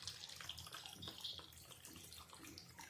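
Cold water poured into an open bowl of raw potato wedges, a steady close splashing pour that runs for about three seconds with no talking.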